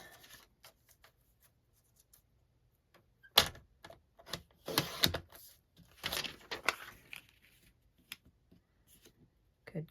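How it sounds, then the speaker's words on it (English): Paper being cut down for a craft folio, scattered snips and crisp cuts with a few louder rustling bursts in the middle, close and fairly quiet with no talking. "Just cut this down."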